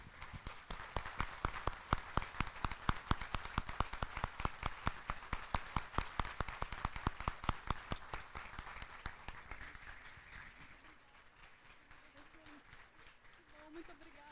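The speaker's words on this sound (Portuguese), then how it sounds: "Uma salva de palmas para o nosso querido Manuel Emídio." Rhythmic, steady clapping from an audience at a national congress, loud and close with regular beats, thinning out toward the end as voices come through faintly.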